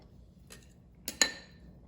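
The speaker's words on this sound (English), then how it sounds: "I just want to cut this egg open" Knife cutting open an egg on a plate in a quinoa power bowl, heard as two or three faint, close clinks of metal on china.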